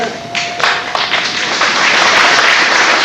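Applause at a sixth-grade graduation, scattered claps and taps that build into fuller, continuous clapping from the audience, fairly loud and close.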